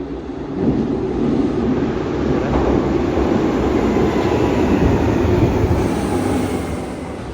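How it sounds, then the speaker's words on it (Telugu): A metro train arriving at a station in Bucharest, Romania, rumbles nearby with a loud, continuous roar and rattling wheels, holding steady before easing off slightly at the end. "ట్రైన్ వస్తుంది"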